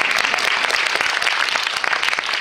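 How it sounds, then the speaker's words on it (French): Audience applause at a Miss France regional preselection event in Parthenay, steady dense clapping from a crowd filling the whole stretch without a break. "on va te applaudir une troisième fois"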